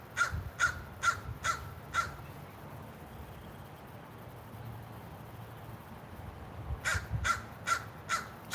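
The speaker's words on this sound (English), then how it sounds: "There's a crow behind me." Crows caw in two bursts of about five evenly spaced calls each, near and clear, in a windy park with a low wind rumble between the bursts and no talking.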